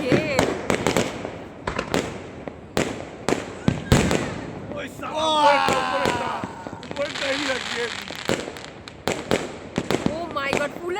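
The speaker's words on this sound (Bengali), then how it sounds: "খালি চোখে দেখো কি সুন্দর ফাটছে, পুরো পুলের মতো হয়েছে, দেখছো? বাজির কি খেল।" Fireworks bursting on New Year's Day, with a rapid series of sharp cracks and pops through the first half, then crackling sparkle-like bursts, while people talk excitedly throughout.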